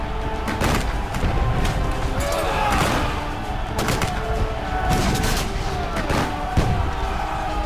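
A War of 1812 Battle of New Orleans reenactment in hand-to-hand fighting, with musket shots and clashing bayonets: dense, repeated sharp cracks and metallic clanks over a constant roar of battle noise mixed with voices.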